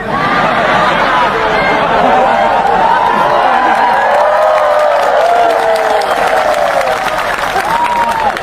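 A sermon congregation claps steadily and loudly throughout, with crowd voices and laughter rising and falling over the clapping.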